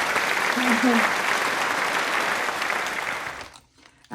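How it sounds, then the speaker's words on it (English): A crowd claps in steady, dense applause that holds evenly for about three and a half seconds before stopping abruptly, with a brief voice over the start. "So another applause if you don't mind."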